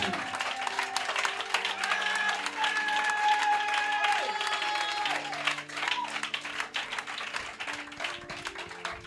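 A church congregation claps and applauds for several seconds over music, the clapping thinning out toward the end.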